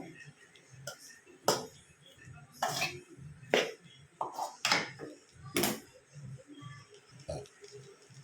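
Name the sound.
mixing tomato rice in a pan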